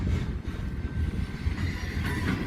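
Train cars roll past on the rails with a steady low rumble and faint metallic squeal, a continuous close pass without pause.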